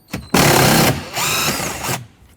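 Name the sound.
removing an 8mm bolt from a Ford F-150 door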